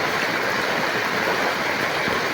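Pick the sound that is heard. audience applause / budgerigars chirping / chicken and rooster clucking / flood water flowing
flood water flowing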